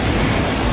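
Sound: subway train

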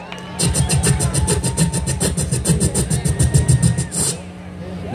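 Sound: beatbox imitation of a hi-hat

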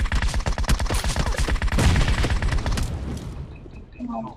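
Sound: grenade explosion and gunfire in video game PUBG Mobile

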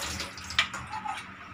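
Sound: washing sliced banana chips in water

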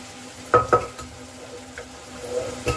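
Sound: yellow rice being stirred into tempering in pan

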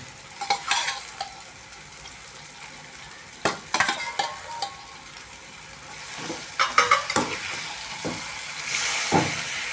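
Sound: chicken frying with sautéed onions in a pan

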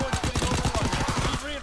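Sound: gunfire from a gun in Call of Duty WW2 video game

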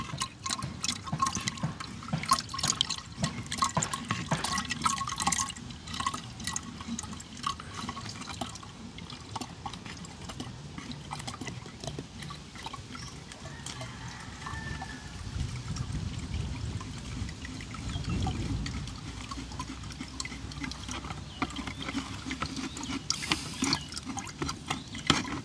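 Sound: straining mango juice through a fine strainer

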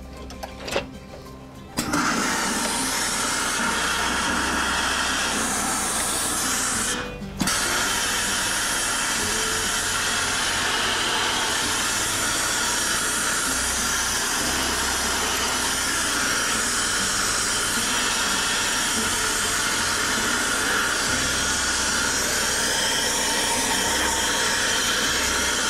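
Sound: hat blocking machine steaming cowboy hat brim

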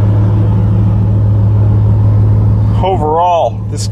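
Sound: 2010 Ford Mustang GT 4.6 V8 engine running

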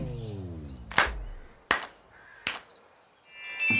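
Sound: clapping three times

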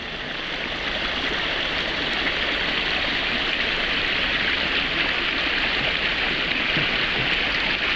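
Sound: river water flowing

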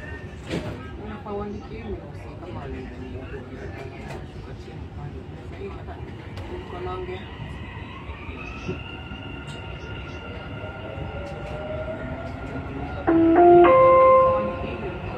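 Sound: Dubai Metro train riding

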